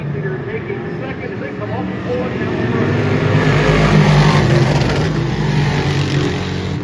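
Race cars roar around a short oval during a rookie feature, engines droning loudly and building in intensity as the pack comes off turn four, with an announcer talking over the noise.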